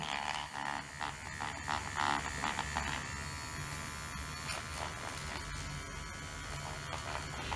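A child's electric toothbrush hums as it brushes teeth, with a steady, fairly quiet electric buzz that carries on without a break throughout. Light rattling can be heard near the start. No one talks.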